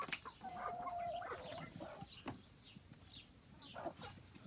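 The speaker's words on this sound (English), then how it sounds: "Oh, look at the nice chickens." Hens cluck and murmur nearby in a steady, busy flock, with one drawn-out squawk early on and soft rustling underneath.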